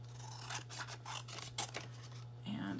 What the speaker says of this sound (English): So use the long scissors this time.